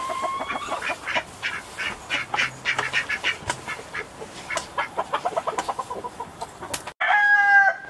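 Free-ranging chickens on a farm property cluck in a rapid, repeating chorus close by, with a rooster crowing loudly at the end over the morning racket; no talking.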